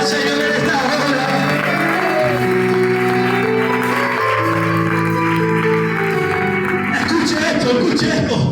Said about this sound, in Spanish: Un fuerte aplauso al Señor en esta hora.